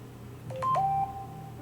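A mobile phone gives a quick run of electronic tone beeps, two short steps and then a longer held tone, fairly clear over a low steady hum, with no talking.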